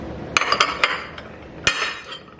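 An antique set of pans and a pot clinks while being handled, with several sharp metallic knocks in an uneven cluster, a pause, then one more loud clank.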